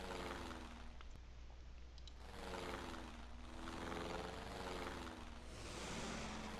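A bomber's engine drones steadily in Sid Meier's Ace Patrol: Pacific Skies, a continuous propeller hum that swells and fades slightly as it passes, heard alone without talk.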